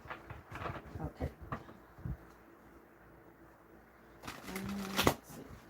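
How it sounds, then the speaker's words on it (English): A deck of cards shuffled during a live card reading, a series of quick papery riffles and taps, close and moderately loud, in two bursts separated by a quieter pause. "Making sure to shuffle well."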